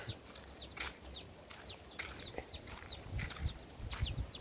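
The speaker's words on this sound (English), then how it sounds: "there are some chicken and the chicken, big chicken, is just sitting" Chickens cluck and chirp in a rural compound, short repeated calls scattered across several seconds at moderate distance, over a faint outdoor background with some low rustling.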